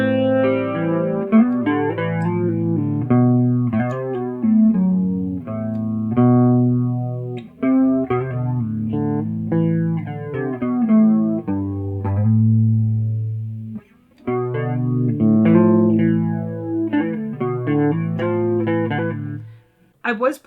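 Electric guitar played through a JHS 3 Series Flanger pedal on its second tone setting, a steady stream of chords and single notes with a sweeping modulated shimmer, fairly loud and continuous with one brief pause.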